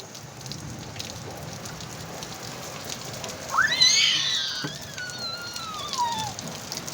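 Light rain falls outdoors as a soft, steady hiss of drops on surfaces. A brief rising chirp-like call cuts through midway, then fades.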